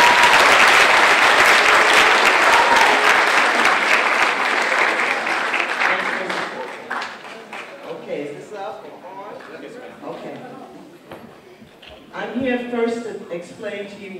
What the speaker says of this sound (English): Give her a round of applause this morning for coming out.